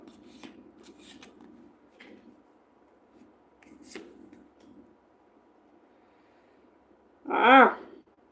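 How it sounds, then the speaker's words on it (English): Giant-size tarot cards being shuffled: a single loud, close riffle burst near the end, after several seconds of soft, scattered handling rustles. "How on earth do you shuffle cards that are giant fucking size?"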